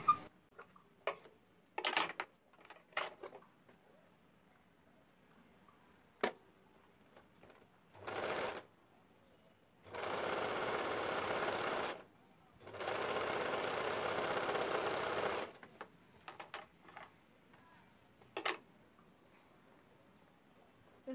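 A sewing machine stitching a frock runs in two sustained bursts of steady whirring, preceded by a shorter run, with scattered clicks and handling taps around them.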